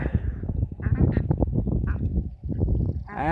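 Runner ducks quack nearby in rapid, overlapping bursts, loud and steady throughout the short stretch.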